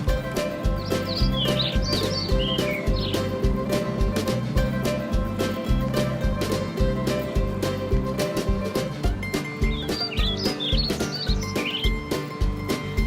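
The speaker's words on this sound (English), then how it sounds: "Not that we came here for the birds, but at least there were some." Birds chirping outdoors in Wales: two brief clusters of high tweets rise above a steady, rhythmic background hum.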